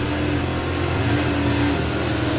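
Drag racing cars at the Festival of Power 2024 roar down the strip, a loud, dense engine blast that holds unbroken for the whole moment.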